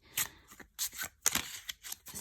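A rectangular tarot deck is shuffled by hand in quick crisp bursts of riffling card noise, close and fairly quiet, with short pauses between the sliding, slipping strokes.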